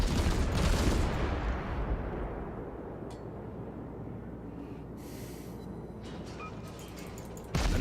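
A heavy naval gun salvo fires in World of Warships, a loud broad boom at the start that rolls into a long low rumble and fades slowly, with a fresh blast cutting in at the very end.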